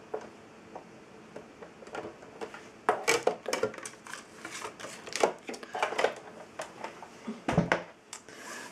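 A die-cutting machine runs paper through for a second pass while embossing a thank-you card, giving irregular crunchy clicks and snaps, louder in bursts near the middle and just before the end, close and with no talking.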